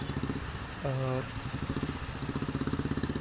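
Motorcycles lined up for a group ride from Mumbai to Shivneri fort idle and putter nearby, with a short horn-like tone in the middle and a rhythmic engine chug that continues throughout.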